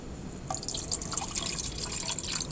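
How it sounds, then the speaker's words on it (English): Water poured from a small container into a small model pyramid, a light trickling splash that starts abruptly and continues steadily up close. "now I'm pouring water into my pyramid"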